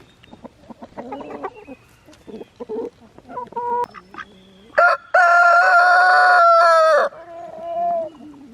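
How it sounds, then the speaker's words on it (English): Backyard egg-laying hens cluck in short scattered bursts, and then a rooster lets out one long, loud crow close by, followed by more soft clucking. "I would just sit out here for a few minutes with the chickens, enjoying all their little sounds"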